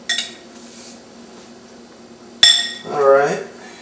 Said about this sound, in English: Give our salsa one more quick mix.